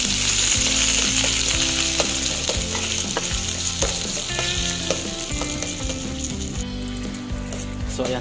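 Bottle gourd (upo), sardines and tomato are sautéed in a pan, making a loud, steady sizzle under repeated scraping and knocking from a spatula.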